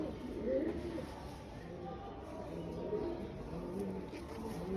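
A silver pigeon coos softly at close range, with low, rolling coos repeating over quiet background noise.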